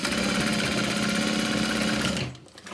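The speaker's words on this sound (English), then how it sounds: "I'm going to sew along either side" A sewing machine stitches a folded waterproof canvas slip pocket in a fast, steady, close mechanical whir that runs for about two seconds and then stops abruptly.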